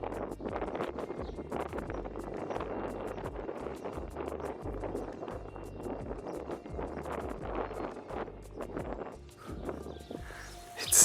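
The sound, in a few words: wind at a hilltop castle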